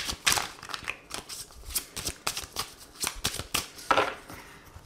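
Oracle cards for a reading are shuffled by hand in a quick series of crisp riffling and slapping bursts, close and fairly loud, with a rough rhythm and no talk over them.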